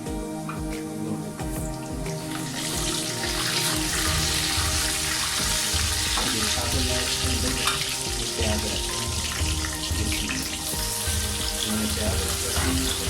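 Whole spices frying in hot oil for aloo gobi, a steady dense sizzle and crackle that runs loud and continuous from start to finish, with no talking.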